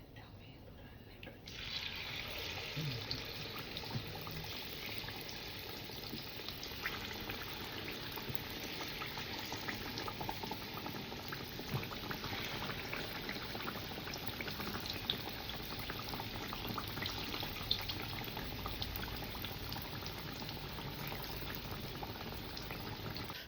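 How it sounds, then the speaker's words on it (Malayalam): Banana fritters (pazhampori) fry in hot coconut oil, a dense, steady sizzle and bubbling that starts after a brief quiet moment and continues evenly throughout at moderate, close level. "നമുക്ക് നമ്മുടെ പഴമിട്ട് അങ്ങോട്ട് പൊരിച്ചെടുക്കാം മക്കളെ"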